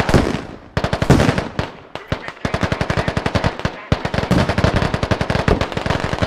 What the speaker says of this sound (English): Alright boys, open fire!